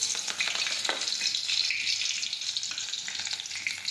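Mustard seeds, cumin and chopped chillies sizzling in hot oil for moraiya khichdi, a loud, dense, continuous crackling hiss up close with no voices.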